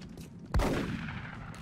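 A single shotgun blast in the video game X-Com Long War fires once, loud and sudden, then trails off in a reverberant decay over an otherwise quiet background.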